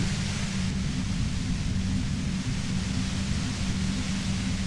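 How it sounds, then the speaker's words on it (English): Steady hiss of radio static fills the scene in the video game Disco Elysium, a dense, unbroken wash of white noise over a low droning hum, constant in level throughout with no voices. "You hear through the white noise. It's especially bad suddenly."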